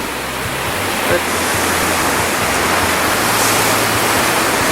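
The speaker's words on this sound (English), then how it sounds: "This is the large fountain behind us." A large fountain at Point State Park in Pittsburgh splashes in a steady, loud broadband rush of falling water, continuous throughout, with no voices.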